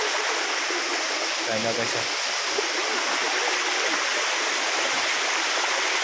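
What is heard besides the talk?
waterfall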